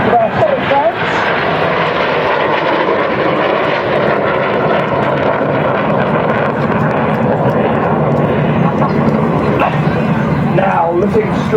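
Red Arrows display jets roar overhead during an aerobatic display at the Herne Bay Airshow in 2016, a loud, continuous jet engine rush that fills the whole stretch while a commentator talks over it.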